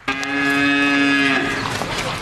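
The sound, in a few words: cows mooing on a farm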